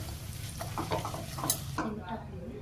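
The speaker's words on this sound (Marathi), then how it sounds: "त्याला व्यवस्थित असं हलवून घ्यायचं आहे" Sambar masala, red chili powder and salt being stirred in a hot pan, with scraping spoon strokes and soft metallic clinks over a low sizzle.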